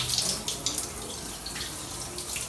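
A shower sprays water steadily and fairly close during a family bath-time rinse, splashing under faint background noise.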